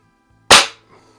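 Norica Dream Hunter .177 underlever spring air rifle firing a single shot, a sharp loud crack close by followed by a brief fade.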